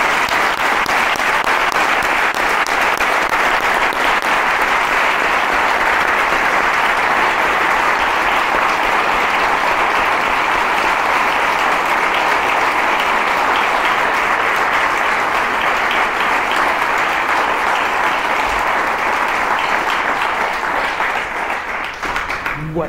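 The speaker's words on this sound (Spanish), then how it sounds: "me gustaría que le diésemos todos un gran aplauso" Long, sustained applause from an audience at a book presentation, dense clapping from many people at a steady loud level that fades out near the end.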